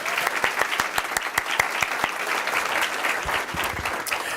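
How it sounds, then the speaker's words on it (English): An audience at a school board of education meeting claps steadily, with sharp individual claps standing out above a dense, moderately loud patter that fades slightly near the end. "So another round of applause would be appropriate"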